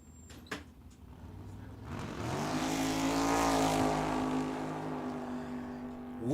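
A C-Gas drag racing car called the Cowboy Cadillac launches wheels up at Tucson Dragway, a roaring engine that swells quickly and holds a loud, steady drone as it pulls away, with no talk over it.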